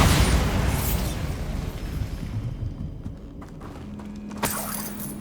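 A Bombarda blasting spell goes off in Hogwarts Legacy, a loud, broad explosive burst at the start that rumbles and fades over several seconds, followed by a brief ringing magical tone near the end.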